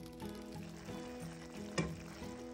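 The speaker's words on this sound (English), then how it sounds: "I'm gonna cover it and I'm gonna let it simmer for about 10 to 15 minutes" Chicken simmers covered in fruit juice, a soft steady bubbling sizzle close by with a low hum underneath and one brief sharper pop near the end, no voices.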